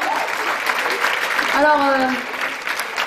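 Audience applause at a cabaret evening rising in a steady patter of clapping, with a voice speaking briefly in French over it midway.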